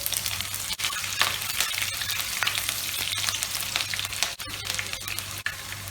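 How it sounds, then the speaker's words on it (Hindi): Cumin and carom seeds crackle and sizzle in hot oil in a pan, a dense, steady frying hiss with sharp pops throughout. "देखिए जीरा और अजवाइन चटकने लगा है।"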